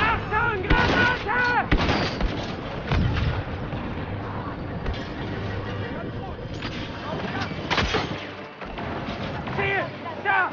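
Grenade blasts and turbolaser fire in Star Wars Battlefront II sound as a dense barrage of booming shots, explosions and zapping blaster bursts, loud and continuous, with shouted in-game voices mixed in.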